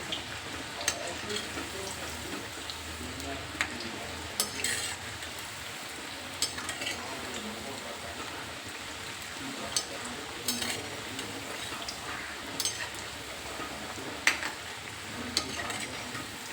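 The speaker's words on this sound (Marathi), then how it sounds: "मस्त ब्राऊन कलर होईपर्यंत आपण ह्याला गुलाबी रंगापर्यंत तळून घेऊया" Colocasia leaf rolls frying in hot oil, a steady dense crackling sizzle with occasional sharper pops and soft utensil clinks, close and continuous throughout.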